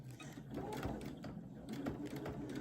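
A sewing machine stitches steadily along a bucket hat seam and over its thicker folded section, a close, continuous mechanical whir with small rhythmic ticks and faint background voice.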